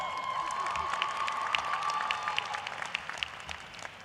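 At a graduation ceremony the audience applauds a graduating twin brother. Soft, distant clapping and light crowd noise swell briefly, with a thin tone underneath, moderately faint throughout.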